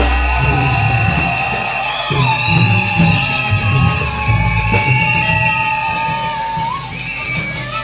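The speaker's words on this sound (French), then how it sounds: "Vous n'acclamez même pas pendant qu'elle monte." Congregation at a Sunday wedding consecration service cheering and shouting as the bride goes up, a sustained crowd roar with high voices and rattling percussion, loud and steady throughout.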